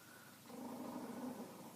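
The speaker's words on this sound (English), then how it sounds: "Sorry if you hear my dog growling." A dog's low, faint growl rumbles for about a second, quiet and close, with no talking.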